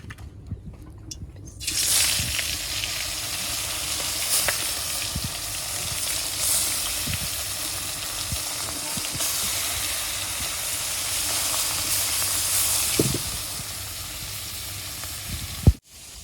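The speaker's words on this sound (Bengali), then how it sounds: "মাছগুলো ভেজে নেবো এখন সুন্দর করে তেলাপিয়া মাছ" Tilapia fish frying in hot oil, a steady broad sizzle and hiss running throughout with scattered crackles and pops, close and continuous, ending in a sharp clatter.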